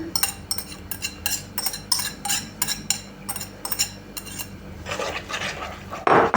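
A utensil scrapes and clinks rhythmically against a bowl, stirring an egg and grated crab-stick batter in steady strokes close up, ending in a louder clatter.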